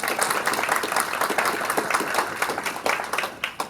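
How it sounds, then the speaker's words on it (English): An audience applauds an honoree recognised for her lifetime contribution to women affected by domestic violence, a brief, dense round of clapping from a room of people, steady then tapering off. "I think we should all give her a round of applause."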